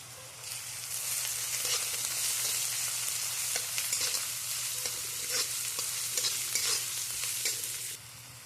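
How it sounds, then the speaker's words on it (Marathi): Mustard seeds, cumin, onion and ginger-garlic paste sizzle and fry steadily in a pan, with crackling pops and stirring scrapes over a continuous hiss, close and alone. "मोहरी टाकायची जिरे कांदा अद्रक लसणाची पेस्ट टाकायची"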